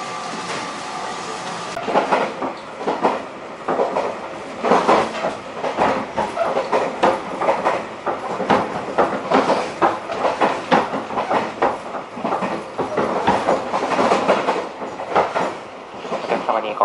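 A train nearing Kochi station in Shikoku, Japan, rolls along the rails with a rhythmic clickety-clack of wheels and a steady rumble, continuous and fairly loud throughout.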